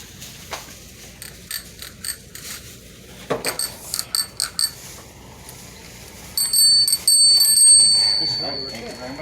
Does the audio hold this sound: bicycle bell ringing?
yes